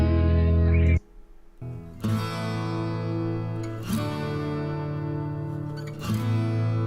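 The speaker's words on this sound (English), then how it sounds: "these are identical acoustic guitars." Two identical acoustic guitars playing through a compressor and EQ, sustained strummed chords ringing out with fresh attacks every couple of seconds, full and close.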